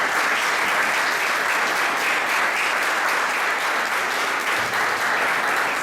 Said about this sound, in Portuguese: Nos aplaude Jesus pela vida dele.